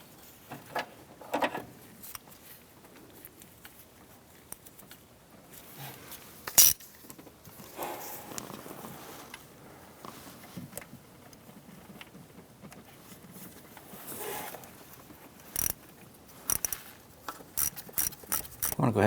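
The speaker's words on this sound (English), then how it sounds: "we're going to go ahead and tighten that." A ratchet tightens the bolt on a camshaft synchronizer of a 1993-1997 Ford Ranger, heard as scattered close metallic clicks and clinks with brief bursts of rapid ratcheting, sometimes under faint talk.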